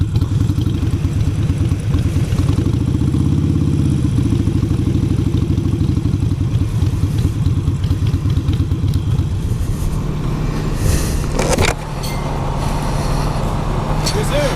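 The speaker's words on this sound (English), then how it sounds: "there's that Sportster squeak" A Harley-Davidson Sportster motorcycle idles close by with a steady, throbbing low engine rumble for the whole stretch, easing slightly near the end; no squeak stands out clearly over the engine.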